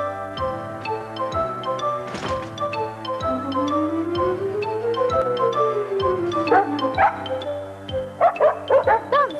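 A dog barks in short bursts over bright, tuneful music with a sliding tone, in a 1990 children's television program about a dancing dog.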